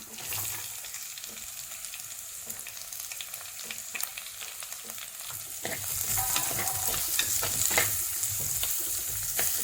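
Onions and curry leaves for a bitter gourd curry fry in oil, with a steady crackling sizzle broken by frequent scraping stirs of a spoon, growing louder and busier partway through; no talking.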